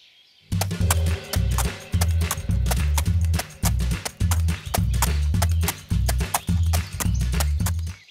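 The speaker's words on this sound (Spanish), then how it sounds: "Iré con mi caballo." A Playmobil toy horse ride is accompanied by loud, rhythmic clip-clop hoofbeats that start after a brief quiet moment and repeat in even galloping bursts, with no voices.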